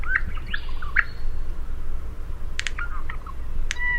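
A male honeyeater sings in the field, giving several short bright chirps and whistled notes at moderate distance, spaced out over a steady low background hum.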